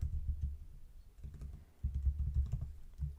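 Computer keyboard typing in short clustered bursts of close, soft key clicks with brief pauses between runs, heard alone while entering script code for a Unity 3D enemy-follow tutorial.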